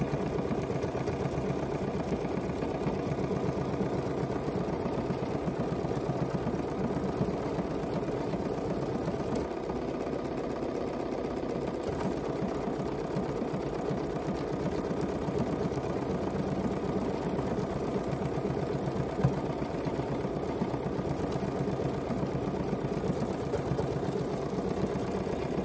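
A Bernina sewing machine stitches through a quilt layer at a steady pace, its motor humming continuously and evenly for the whole stretch with no talk over it.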